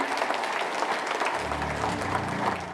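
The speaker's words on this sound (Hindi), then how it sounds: "भरपूर तालियां होनी चाहिए।" Crowd applause at a cricket academy signing ceremony, a dense burst of clapping that continues steadily throughout, moderately loud with a low rumble joining partway.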